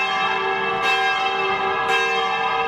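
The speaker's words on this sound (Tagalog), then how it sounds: "Isinagwara ng pagpapatunog ng kampana kada alas 7 ng gabi" A large church bell rings loudly and resonantly at 7 pm in the Philippines in remembrance of the Pope, two strikes about a second apart, each ringing tone sustaining into the next.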